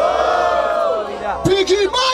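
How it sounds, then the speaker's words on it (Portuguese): A crowd at a rap battle event in Barueri, São Paulo, roars and bellows together for a contestant's rhymes, a loud collective yell that swells and breaks into whoops. "Barulho para as rimas do Salvador"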